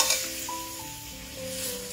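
Jaggery, about 500 grams, heats and is stirred in a kadai, with a steady soft sizzle and hiss and a few faint tonal scrapes of the spoon against the pan, all close and continuous.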